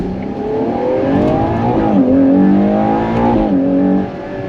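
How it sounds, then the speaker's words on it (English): A Ferrari Purosangue's engine pulls smoothly under acceleration, its tone rising through the revs, dipping briefly at a shift and climbing again before easing off, heard clearly from inside the car. "Oh, that engine sounds good."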